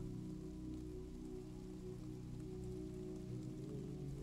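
Steady rain falls without pause, a dense even hiss laid over a low sustained hum, with no voices.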